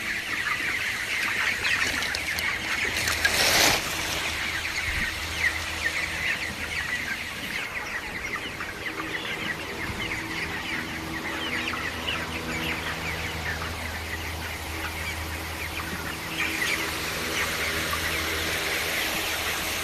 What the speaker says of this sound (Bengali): আমরা কিন্তু এই 4-5 দিনের মধ্যে কিন্তু আমাদের মুরগিগুলোকে বিক্রি করে দেব।